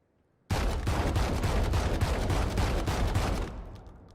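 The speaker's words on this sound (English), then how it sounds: "The Judge. This is a fully automatic shotgun." Rapid automatic blasts from the Judge, a fully automatic shotgun in the video game Valorant, fire in a steady loud burst of about a dozen shots over three seconds, then a short fading tail.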